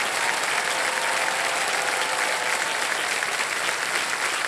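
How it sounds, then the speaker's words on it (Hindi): Studio audience on a Hindi quiz game show, KBC, bursting into loud, sustained applause that stays dense and steady throughout, with no speech over it. "तालियां बज जाएं इनके लिए।"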